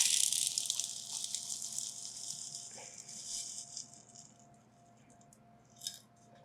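Loose perlite poured into a plant pot gives a dry, gritty rattle that is loud at first and slowly thins out, with a brief clatter near the end. It sounds close and has no talk over it.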